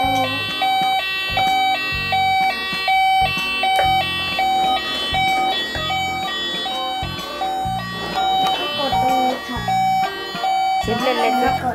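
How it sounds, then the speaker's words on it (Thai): A toy fire truck plays a repeating electronic siren tone over a pulsing beat, loud and mechanical, stopping and starting in short bursts as its button is pressed, with a child audible faintly in the background. "รถดับเพลิงครับ"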